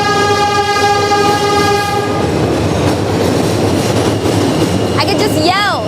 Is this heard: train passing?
yes